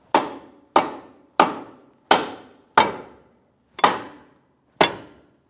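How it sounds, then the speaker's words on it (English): A rubber mallet taps a ball joint into the steering knuckle while a 2009-2014 Nissan Maxima's front lower control arm is being replaced. Seven evenly spaced, solid knocks land close by, each ringing briefly before fading. "So just tap it with a rubber mallet till you see that half moon so that the bolt will go straight through"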